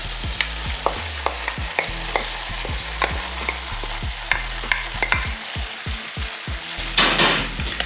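Diced tomatoes tipped into a hot pan of sizzling camp casserole ingredients and stirred, with steady frying hiss beneath repeated close scraping strokes of a utensil against the pan and a louder burst of sizzle near the end.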